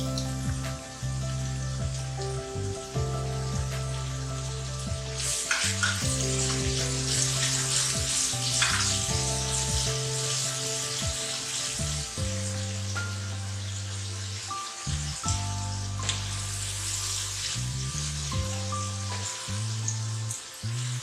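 A teaspoon of ginger garlic paste sizzles and fries steadily in a pan for a beef and capsicum keema, with a low hum running under the continuous crackle.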